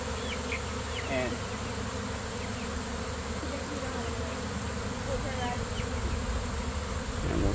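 A dense, steady buzzing of a honey bee swarm fills the air, continuous and loud throughout, with a few faint higher chirps in the background.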